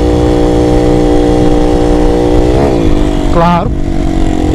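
A small Pop motorcycle engine runs loud and close at a fast idle, then briefly revs up twice, with the second rev climbing higher before settling back. Someone speaks a single short word.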